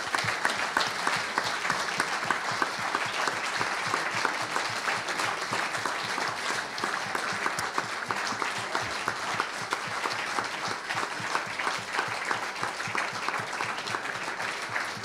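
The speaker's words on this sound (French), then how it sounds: "Je pense qu'on peut applaudir la société Resistex." A conference audience gives the company Resistex a long round of applause at a climate change event, with sustained, even clapping from a sizeable crowd filling the whole stretch.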